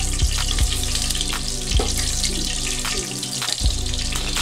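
Onions crackle in hot oil in a pot for white mutton biryani, a steady broad sizzle with a few louder clanks of utensils against the pot, close and fairly loud, with no talk.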